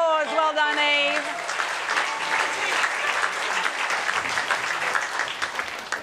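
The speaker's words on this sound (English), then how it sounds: "Round of applause." A studio audience on a rock music quiz show bursts into sustained applause, dense and fairly loud. It follows a brief sung or tonal voice at the very start.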